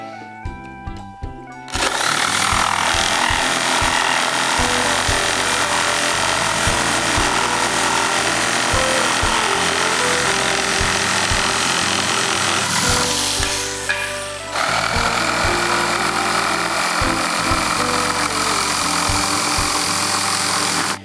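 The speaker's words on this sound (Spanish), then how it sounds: "Ahora vamos a ir cortando estas piezas con la sierra de calar." A jigsaw cuts through wooden boards, starting up after a few clicks into a loud, steady, close buzzing whine, dipping briefly near the middle before resuming its continuous cutting.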